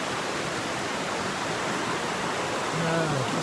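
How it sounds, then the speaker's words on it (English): Creek flowing beside a cold, rainy trail, a steady full rushing wash of water that fills the whole clip with no speech. "Crossing a creek right here."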